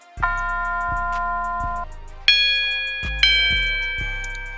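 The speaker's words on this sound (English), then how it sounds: "And then I added these bells." Bright bell tones ring out over deep booming bass hits in a slow Chicago drill-style beat, the bells stepping higher in pitch as the beat continues.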